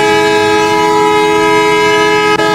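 A train passes close by on the Padma Bridge, a loud sustained horn blaring over a steady mechanical rumble, briefly cut near the end.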